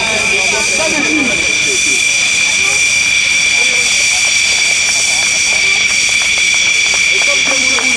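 Dassault Rafale fighter jet passing at an air show in Tours, a broad steady roar with a whining high tone, heard under a crowd and announcer's commentary.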